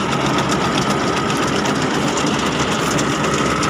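A John Deere 5405 CRDi tractor runs steadily at close range during straw-work with a reaper, a continuous loud mechanical drone with no pauses and no voices.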